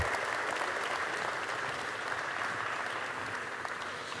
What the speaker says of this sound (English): Please stand up and give applause.